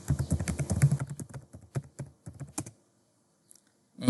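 Rapid typing on a computer keyboard while logging into an Onshape account: a dense, close run of key clacks for about three seconds, then silence, with a couple of stray taps at the end.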